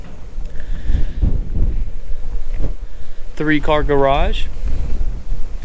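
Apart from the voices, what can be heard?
wind blowing on microphone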